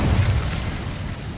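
A booming fire-spell blast from Hogwarts Legacy: a loud, deep, rumbling burst that fills the whole moment with low roaring energy and no talk.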